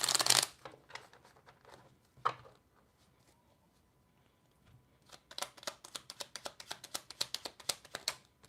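A deck of tiny tarot cards being shuffled up close, with a burst of riffling at the start, a lone snap, then a quick run of soft, rhythmic card flicks after a short pause.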